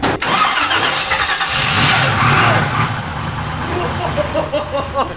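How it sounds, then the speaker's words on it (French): A car engine fires up and roars loudly, running rough and revving close by over steady broadband noise. "Ouah, ça a démarré d'un coup."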